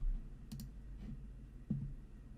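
Computer mouse clicks and a few keyboard keystrokes in a quiet room, sparse and close, with a double click near the start and single taps scattered after.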